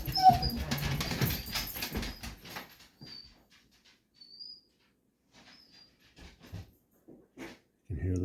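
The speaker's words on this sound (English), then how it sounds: "You can hear the dogs." Dogs whimper and whine faintly indoors at a rural home while a black bear visits a bird feeder outside, with soft intermittent whimpers and breathing sounds after a stretch of quiet speech at the start.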